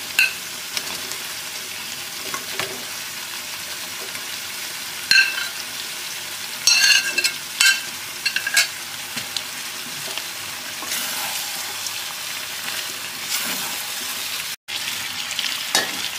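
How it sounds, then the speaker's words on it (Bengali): Chicken, already fried, sizzles steadily while being stir-fried with vegetables in a pan for Chinese-style chilli chicken, with intermittent scraping and clattering bursts from stirring close by. "এরপরে আমি ফ্রাই করা চিকেনগুলো সব সবজির সঙ্গে দিয়ে কষে নেব।"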